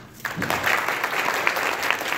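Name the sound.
convention panel audience applause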